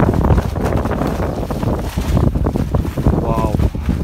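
Strong gusting wind buffets a hammock campsite in stormy, rainy weather, a loud roaring rush hitting the microphone in waves, with brief talk underneath.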